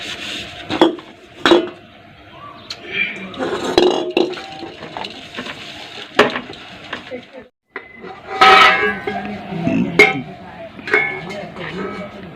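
Dishes, pots and cutlery clatter and clink in a household kitchen, with sharp scattered knocks and scraping over several seconds while people talk throughout.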